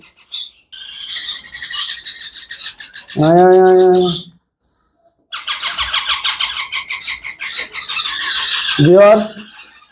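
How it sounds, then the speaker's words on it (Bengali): Indian ringneck parrot chicks squawk in harsh, rapid, repeated bursts close by, a noisy chorus with brief pauses and a voice speaking in between. "এখানে আরও পাঁচ পিস টিয়া পাখির বাচ্চা নিয়ে আসছি"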